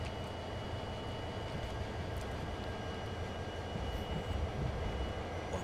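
A slow-moving train in Train Sim World 4 gives a steady low rumble of rolling wheels and engine hum that holds at an even, moderate level and never lets up.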